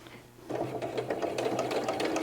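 A sewing machine stitches a centered zipper: after a quiet moment, a close, steady rapid clatter of needle strokes starts and continues to the end.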